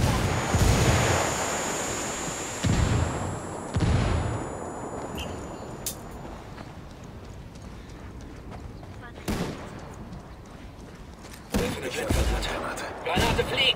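A grenade explosion in the Ghost Recon Wildlands video game, heavy booming blasts landing several times among gunfire and battle noise, with voices talking over the action.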